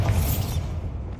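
A Bombarda blasting spell explodes in the Hogwarts Legacy video game: a short, loud, low boom with a bright burst on top that quickly fades away.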